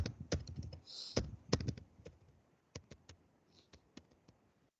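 Someone types a ping command on a computer keyboard: a quick burst of close, crisp keystrokes, then sparser, fainter taps with pauses, no talk.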